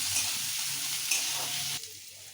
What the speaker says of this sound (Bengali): তারপর গ্যাসের ফ্লেমটা বাড়িয়ে দিয়ে এটাকে ভালো করে ভেজে নেব।